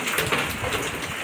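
Hail falling outdoors in a dense, steady patter of small impacts that runs without a break throughout, fairly close and moderately loud.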